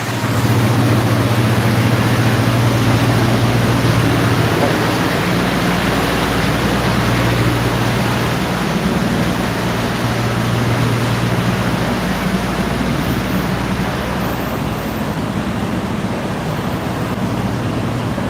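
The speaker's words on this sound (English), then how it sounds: "It's loud. Sorry, there's a refrigerator truck right here." A loud, constant droning hum of a refrigerator truck's refrigeration unit running close by on a street in the French Quarter, New Orleans, steady and unbroken, with a low mechanical tone throughout.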